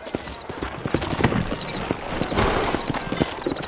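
Horse hooves clip-clop steadily in Red Dead Redemption's New Austin, a brisk, even rhythm of close hoofbeats running throughout, with a faint voice or whinny in the background.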